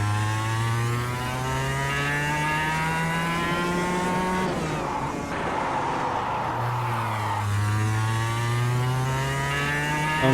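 A racing kart engine in KartKraft revs high and steady, rising through gears, dipping briefly as it lifts off mid-corner, then climbing again, loud and close with no talk.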